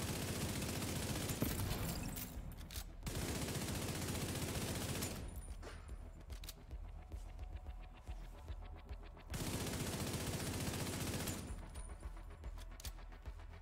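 Automatic turrets in The Division 2 video game fire in long, dense bursts of rapid gunfire, loud and close, broken by short pauses filled with scattered lighter shots and impacts.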